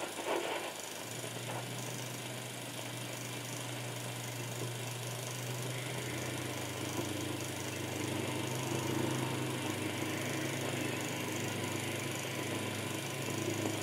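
A tank engine running steadily, a continuous low mechanical drone with a rough, buzzing texture that holds level and faint-to-moderate, with no voices over it.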